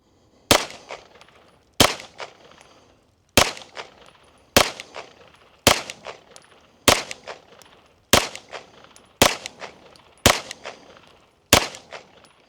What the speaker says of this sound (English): Let's shoot a group at the middle left target.